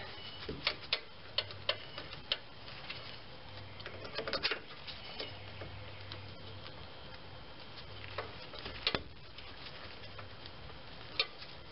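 Metal bolts being threaded and wiggled by hand into the emergency brake assembly of a 1997–2003 Ford F150, producing faint scattered ticks and small metallic clicks against quiet background.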